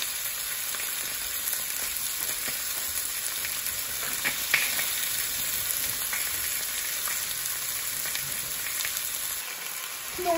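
A fish fillet sears in a hot pan, heard as a steady, dense crackling sizzle close by with a few louder pops and no talk.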